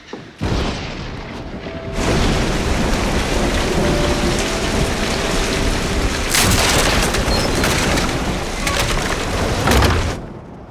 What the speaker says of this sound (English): The thunder startled me.